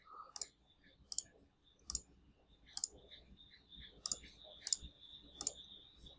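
A computer mouse clicks to select skills on a freelancing website, seven sharp, close single clicks spaced roughly evenly over a quiet background.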